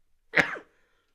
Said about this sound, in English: I might sneeze.